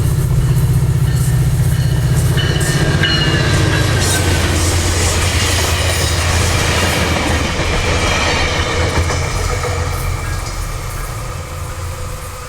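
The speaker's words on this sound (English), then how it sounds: "F40PH-3C number 810 in the lead" F40PH-3C diesel locomotive number 810 leading a passenger train past a trackside spot in South Florida, with a loud, steady engine roar and rolling wheel rumble sustained throughout, slowly fading near the end.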